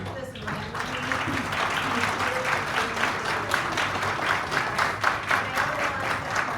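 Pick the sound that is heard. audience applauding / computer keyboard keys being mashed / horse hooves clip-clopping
audience applauding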